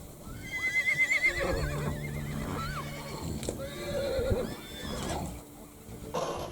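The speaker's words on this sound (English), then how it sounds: "Here you can see scenes of mares rearing up against each other with the foals caught in between." Several horses neigh and whinny loudly on a blood mare farm in Iceland, where mares rear up against each other with foals caught between, shrill calls overlapping repeatedly amid hoof clatter and restless movement.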